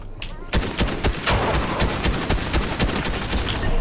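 Rapid gunfire rattles out in Fortnite Chapter 3, a loud string of closely spaced shots after a brief quiet start, continuing in an uneven burst rhythm close up.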